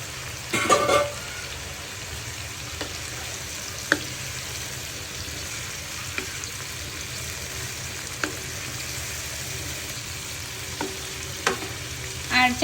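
Capsicum and mushroom stir-fried on high flame for Chinese vegetables, a constant loud hissing sizzle with occasional spatula scrapes and taps, no voices.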